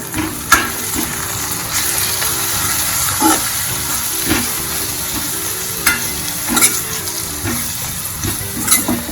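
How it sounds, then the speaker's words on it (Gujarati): Tomatoes and onions sauté in a pan with a loud, steady sizzle close by. Frequent spatula scrapes and knocks stir the vegetables, with a faint low hum underneath. "તો ફરી આપણે તેને જ્યાં સુધી આપણું ટામેટું ને કાંદા સોફ્ટ એવા ન થાય ત્યાં સુધી તેને સાતળવા દેવાના છે"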